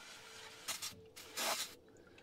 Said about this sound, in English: So I'm just gonna spray off around the fill plug with some brake clean.